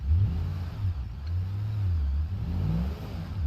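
An off-road vehicle's engine revs and strains on a hill climb in BeamNG Drive, a loud, close mid-pitched drone that swells and dips with the throttle and runs steadily throughout with no talk.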